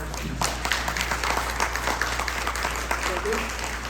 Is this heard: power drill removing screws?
no